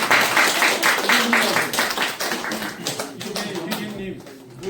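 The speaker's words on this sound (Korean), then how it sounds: "박수." A short burst of applause at a student council introduction ceremony at a Korean theological graduate school, with quick claps bunched together in the first half and a talking voice running under them that grows clearer as the clapping thins out.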